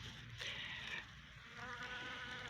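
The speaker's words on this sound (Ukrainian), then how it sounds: "це джміль" A bumblebee buzzes among flowering spring crocuses in a garden, its drone rising and falling in two bursts over a faint outdoor background.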